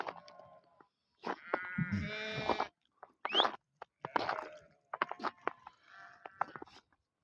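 Sheep bleat nearby, several calls in a row with pauses between, alongside rustling and chewing sounds.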